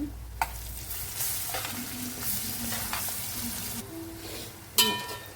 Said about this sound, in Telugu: బాగా ఎగిపోయినాయి కాబట్టి అల్లం వెల్లుల్లి పేస్ట్ వేసుకుంటున్నాము